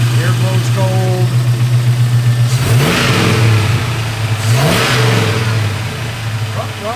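A 1971 Chevrolet Cheyenne Super pickup truck engine idling steadily close by, then revving up twice in strong surges that fall back to a rumbling idle, heard alone without talk.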